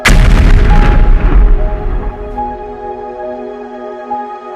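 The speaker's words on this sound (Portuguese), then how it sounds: "A explosão abalou a cidade inesperadamente, semeando o terror no meio da noite." A single loud, deep boom bursts out and then rumbles away into a long fading echo.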